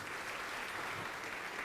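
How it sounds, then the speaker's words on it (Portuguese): A church congregation applauds in a steady, dense wash of clapping, distant and even throughout with no talk over it. "Vamos aplaudir ao nome de Jesus"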